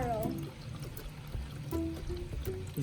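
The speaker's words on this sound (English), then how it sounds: "We have to pour now the cold water." Cold water poured into a Hot Wheels Mega Car Wash toy makes short splashing and trickling sounds in brief bursts, close up, with people talking.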